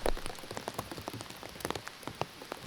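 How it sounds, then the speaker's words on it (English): Heavy rain pouring steadily on a wooded disc golf course during a tournament round, dense patter of drops on surfaces all around, loud and continuous with no talk. "And it is pouring. Oh, you can see the rain."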